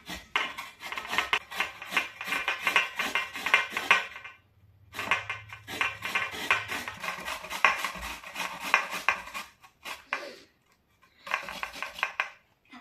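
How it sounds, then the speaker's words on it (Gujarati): Carrot being grated by hand on a grater for vegetable muthiya, a rapid rhythmic scraping and rasping in close, loud bursts, with a brief pause near the middle and another near the end. "તો હવે આપણે ગાજરને ખમણી રાખીએ"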